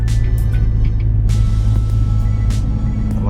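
A manual stickshift car pulls away in third gear, a heavy, steady low engine rumble droning close by with faint clicks and rattles over it, and no voices.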